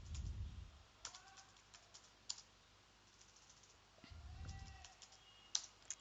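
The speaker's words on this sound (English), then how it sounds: "Just you can write in the Google, you can type here" Typing on a computer keyboard, a few soft close key clicks in short scattered bursts, faint over a quiet room with low rumbles between.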